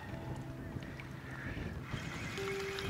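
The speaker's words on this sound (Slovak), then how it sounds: "A veter začal fungovať." Wind gusts across a large lake during a fishing session, a steady rushing buffet on the microphone with a low hum beneath and a faint tone near the end.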